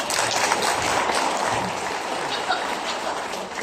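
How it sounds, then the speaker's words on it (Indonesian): An audience gives a continuous wash of applause for a school principal, a dense, even patter heard from a slight distance with no clear individual claps. "Tepuk tangan dulu buat Kepala Sekolah dulu."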